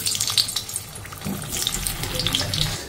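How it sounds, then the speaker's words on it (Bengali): Potatoes frying in hot oil, a close, steady hiss and crackle that holds at an even loudness throughout with no voices. "এদিকে তেল গরম হয়ে গেছে, আলুটা আগে ভেজে নিই"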